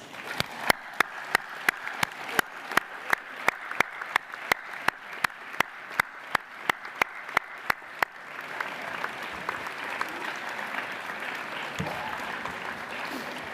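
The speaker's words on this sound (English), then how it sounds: "please stand and give a round of applause to colleagues and your friends and family" At a graduation ceremony, sharp evenly spaced claps ring out for about eight seconds before the room breaks into a fuller, continuous round of applause from the graduates for friends and family.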